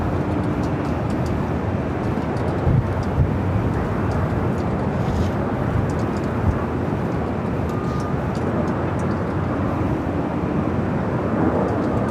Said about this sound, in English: this is Emirates, the A380 Super, Flight 215, coming up from Dubai